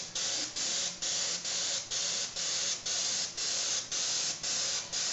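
A spray can coats a Boba Fett helmet in paint: about a dozen quick, even hissing bursts follow one another in a steady rhythm, each separated by a brief gap, close and fairly loud.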